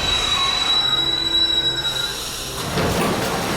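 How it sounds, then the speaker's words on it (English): A metro train pulls into a platform and brakes to a stop, its wheels squealing loudly in sustained high tones before the screech fades into a rushing rumble. "A metro train suddenly approached platform 4 and gradually came to a stop."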